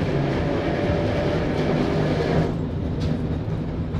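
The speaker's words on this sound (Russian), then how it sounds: "Самое прикольное в этих старых трамваях – это, конечно же, звук движка" A continuous low electric motor drone with rumbling wheels and a rattling car body, loud and steady as an old Moscow tram rolls along.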